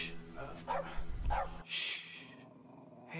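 A dog barks and yips several times close by in a short burst, mixed with a voice speaking and hushing it, in a home during a break-in.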